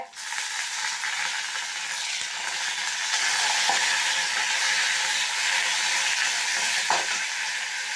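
Lemon leaves being sautéed in hot oil in a pan for a pickle, an even, dense sizzle holding steady throughout with a few faint knocks.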